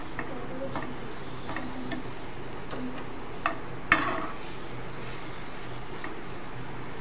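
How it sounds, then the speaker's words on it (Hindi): Onions frying in a pan, a low steady sizzle with a few light clinks of a spoon, faint and close, no talking. "फ्राई करेंगे कि प्याज का कच्चापन निकल जाए।"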